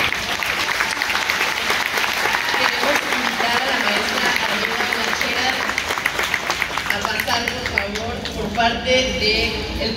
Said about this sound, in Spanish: para que hoy ustedes estén aplaudiendo así con esa energía, esa alegría